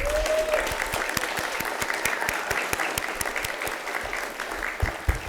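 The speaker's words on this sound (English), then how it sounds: "Let's give the registered nursing students a round of applause." An audience at a nurses' pinning ceremony applauds the registered nursing graduates, a steady, moderately loud round of clapping with sharp individual claps standing out and a brief voice at the start.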